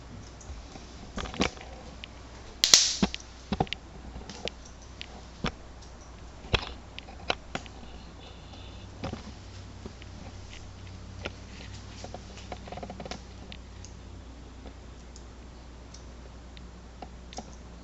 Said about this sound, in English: I need to get some new scissors. These are really dull